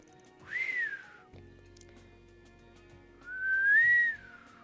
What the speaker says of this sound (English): I'm not very good at whistling.